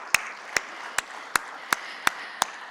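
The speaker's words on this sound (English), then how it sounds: "Let's give everyone a big round of applause to get the energy going." A single person claps slowly and steadily at a conference, about seven evenly spaced sharp claps over a quiet room tone, fairly close and moderately loud, with no crowd joining in.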